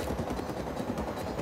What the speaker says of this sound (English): Airplanes are noisy.